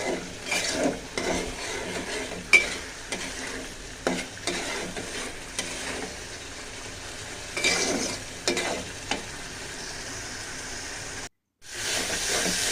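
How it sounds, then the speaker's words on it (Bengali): Spice paste with bay leaves frying and being stirred in a pan, a steady close sizzle and hiss broken by scraping stirs, with a brief pause near the end. "তো পেস্টটা ভালো করে ভাজা হোক, এর সাথে আমি মশলাটা মানে তেজপাতা দিয়ে নিই"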